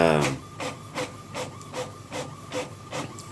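A printer runs in a room, its mechanism sweeping back and forth in a steady rhythm of rasping passes, roughly two or three per second, close and fairly loud.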